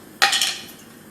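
A little teaspoon scoops tahini from a cup, making a single close, bright clink followed by a brief scraping rattle that fades out quickly in a quiet room.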